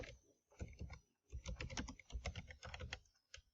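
Typing on a computer keyboard, a quick close run of crisp key clicks in bursts with a short pause near the start, nobody speaking.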